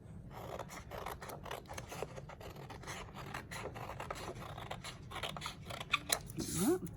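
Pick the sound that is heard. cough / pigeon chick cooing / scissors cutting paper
scissors cutting paper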